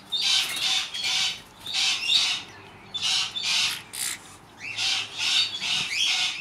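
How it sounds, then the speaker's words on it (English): Cockatoos squawk loudly and harshly in a rapid series of bursts, several raucous calls following one another up close without pause. "I might have to go and try and quiet down a couple of cockatoos."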